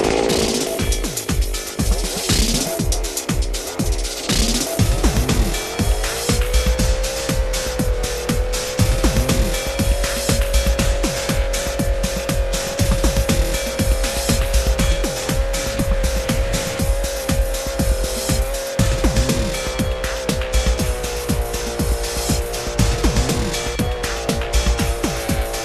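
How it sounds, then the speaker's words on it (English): A chainsaw engine drives a Lewis winch in the forest, revving with several sharp bursts and then settling into a loud, sustained whine that holds steady under the pulling load until the end. "Fire up the saw, pick up the slack,"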